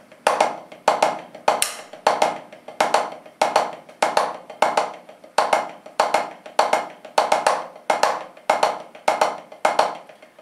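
A snare drum plays a quick, steady sixteenth-note sticking pattern with regular louder accented strokes, close and dry with no other sounds.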